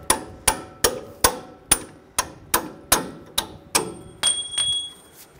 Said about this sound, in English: When you take this bolt out, just use a punch.